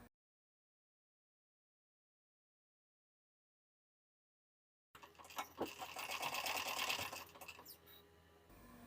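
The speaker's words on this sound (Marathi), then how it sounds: "त्यामुळे आपण या पट्टीला सेंटरहून शिलाई देऊन घेणार आहोत." After several seconds of silence, a sewing machine starts stitching a blouse strip, a steady close whirr that runs for a few seconds and then settles lower.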